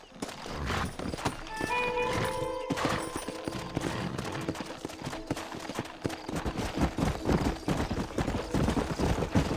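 Horses in the Red Dead Redemption western video game, with steady clip-clopping hooves and a short whinny early on, close and fairly loud, mixed with other game sounds and occasional voices.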